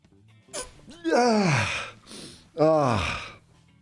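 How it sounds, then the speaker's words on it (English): Two loud, sharp sneezes burst out close by, each with a sharp inhale before it, separated by a short pause. "as the sneeze returns"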